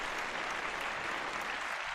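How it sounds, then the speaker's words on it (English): An audience claps in steady, even applause that stays at the same level throughout the short stretch. "And a big round of applause to Vanessa."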